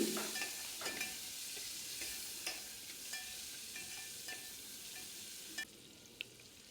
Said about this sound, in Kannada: ಹೆಚ್ಚಿಟ್ಟಿರೋ ಟೊಮೆಟೊ ಹಾಕಿ ಸ್ವಲ್ಪ ಫ್ರೈ ಮಾಡ್ತಾಯಿದ್ದೀನಿ